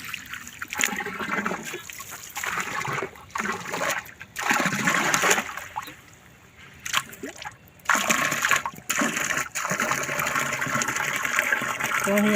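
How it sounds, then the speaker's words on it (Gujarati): Water driven by an electric motor gushes and splashes into two storage tanks in loud bursts, with several short pauses and a brief quieter stretch in the middle. "તો જો આપણે મોટર ચાલુ કરી દીધી છે"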